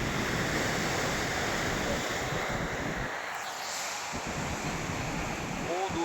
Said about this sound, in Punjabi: ਪਾਣੀ ਉਧਰ ਨੂੰ ਚੌਕਾਰ ਪੈਂਦਾ ਬਈ ਕਿੰਨਾ ਸ਼ੋਰ ਸ਼ੋਰ ਬਹੁਤ ਕਰਦਾ